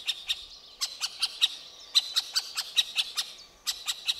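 A middle spotted woodpecker gives repeated sharp, high calls in short bursts with brief pauses between them, clear and fairly close, with no other sound.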